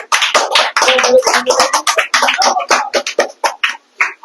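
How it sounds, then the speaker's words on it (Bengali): A small group claps hands together at an informal gathering where sweets are being shared, a dense, uneven patter of hits lasting several seconds, close by and loud, with a few voices mixed in. "সবাই হাততালি"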